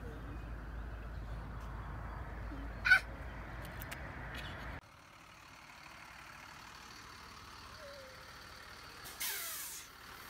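A school bus air brake gives a short, sharp hiss, followed later by another release burst over a quiet outdoor background.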